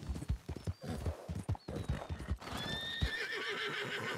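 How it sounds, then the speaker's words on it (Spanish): Horse hooves clip-clop in a rapid rhythm, then a loud, long whinny in the video game Red Dead RP, close and clear. "La verdad es que el caballo es súper bonito."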